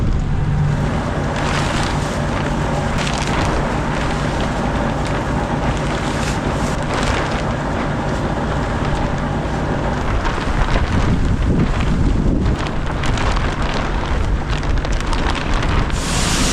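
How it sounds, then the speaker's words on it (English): Strong, steady wind roars and buffets the microphone throughout on a farm, a dense continuous rush with occasional gusts and no voices. "It is so windy out."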